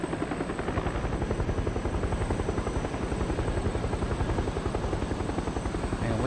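A loud, close aircraft engine drones in the game PUBG, a continuous buzzing roar with a rapid steady pulse running through it for several seconds, with no talking.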